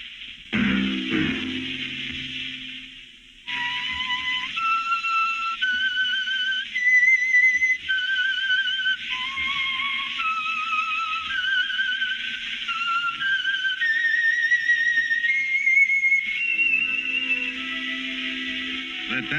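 A melodic whistled signal tune, the theme of the Signal Oil radio drama The Whistler, rises and falls in clear sustained notes for several seconds, loud and alone after a brief opening burst.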